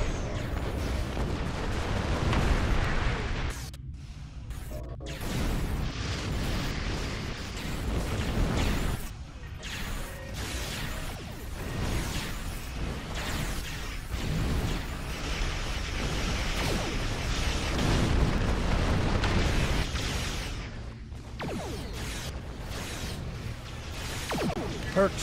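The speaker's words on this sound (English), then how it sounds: "A few dozen torpedoes." Torpedo explosions in a space battle in the video game Star Trek Online form a dense, rumbling wall of booms and crashes that lasts throughout, loud and continuous, with brief dips and voices talking underneath.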